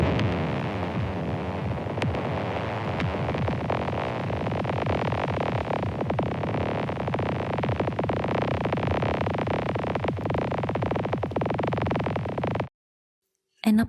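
Dense, throbbing hum inside a glacier crevice with scattered clicks and crackles, steady and enveloping, cutting off abruptly near the end.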